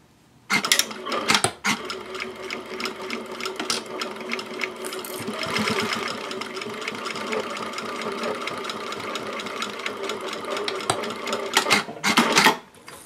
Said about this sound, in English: let's go over to the machine right now and sew all those pieces together